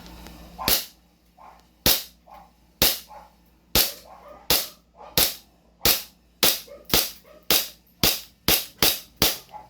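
A CO2-powered pistol fires about fifteen sharp, loud cracks at an uneven pace, with shots coming faster toward the end and brief quiet gaps between them.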